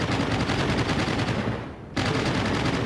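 Fighter planes strafe with rapid, continuous machine-gun fire in the World of Warships naval game, loud and dense throughout, with a brief dip in intensity before the full barrage resumes.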